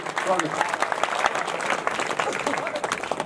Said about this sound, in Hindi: बस सृष्टि के सम्मान में तालियां बजा दीजिए